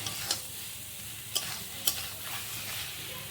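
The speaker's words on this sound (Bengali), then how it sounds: "এবার আমি আলু আর চিংড়ি মাছটা দিয়ে দেবো। ভালো করে একটু কষিয়ে নিব" Potatoes and prawns fry in spice paste, a quiet close sizzle punctuated by three distinct spoon scrapes against the pan.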